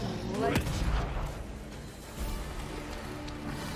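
Shotgun fire in a video game, a couple of sharp booming blasts in the first second, followed by a rumbling tail and lingering game noise.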